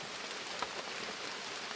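Light rain keeps falling in a forest in the afternoon, a dense, unbroken patter that holds a constant level from start to end, with only faint individual drops showing through. There are no voices.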